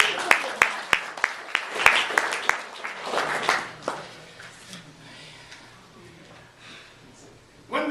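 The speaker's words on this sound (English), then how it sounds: "Clap for this guy." Scattered applause from an audience at a spiritual talk: a series of sharp, separate claps in the first few seconds that quickly fade into a quiet room with faint voices.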